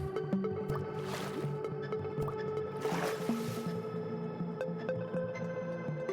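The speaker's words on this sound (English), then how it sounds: "I think I will just go ahead and take the old water elevator." Riding a water elevator in Minecraft gives a steady, continuous wash of bubbling, gurgling water with soft drips, accompanied by a faint background melody.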